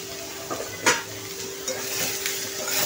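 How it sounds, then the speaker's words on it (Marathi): Onion being roasted until brown in a pan for chicken rassa, a faint sizzle broken by scraping spatula strokes and a sharp metallic clank, close and uneven. "कांदा छान भाजून घ्यायचा आहे आपल्याला, ब्राऊन कलरचा करून घ्यायचा आहे"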